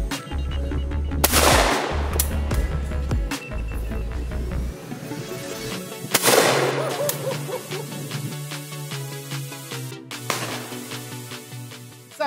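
Three loud shotgun blasts ring out at a clay shoot at Dovey Valley, spaced several seconds apart, each a sharp bang followed by a long rolling decay across the open ground.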